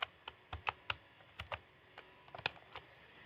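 Sharp, isolated keystrokes on a computer keyboard, close and fairly quiet, tapped in an uneven rhythm with short pauses between clusters.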